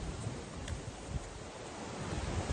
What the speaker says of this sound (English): I apologize if you cannot hear me because of the waves.